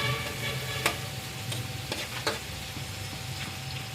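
Onion and garlic sautéing in a cooking pot, giving a steady low sizzle and a few sharp clinks of a utensil stirring against the pot, with no talking.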